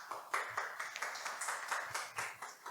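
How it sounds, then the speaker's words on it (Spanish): Audience applause breaks out after a preschool reading project presentation, a steady patter of scattered hand claps from a modest crowd, fairly close and continuous throughout. "un merecido aplauso a la obra de ustedes"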